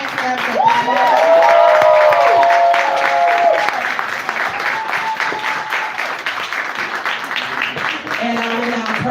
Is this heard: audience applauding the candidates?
yes